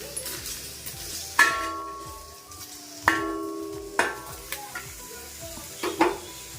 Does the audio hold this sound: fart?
no